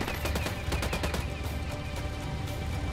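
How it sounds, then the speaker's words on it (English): Bursts of automatic gunfire in the tactical shooter Ghost Recon Wildlands, with rapid repeated shots in the first half that settle into a steadier, busier crackle of fire, moderately loud and without voices. "I'm opening fire"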